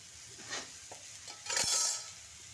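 A spoon stirs a green peas and potato masala curry in a pan, producing a few soft scraping and clinking strokes with a brief louder scrape near the end, close and quiet with no talking.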